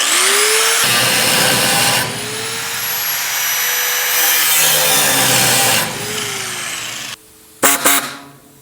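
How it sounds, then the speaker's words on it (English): Harbor Freight reciprocating saw cutting a car panel on a GTO restomod: a loud, continuous rasping whine that pauses briefly and restarts, then ends with a few short bursts, close up. "I think we're gonna go ahead and use the little Harbor Freight reciprocating saw here"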